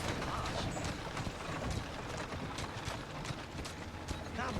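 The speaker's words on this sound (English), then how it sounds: "I'm not sure you're supposed to drive horses in here." Horse hooves clip-clop steadily over street ambience in Assassin's Creed Syndicate, a dense, busy game soundscape with the rhythmic hoofbeats running the whole time amid background noise.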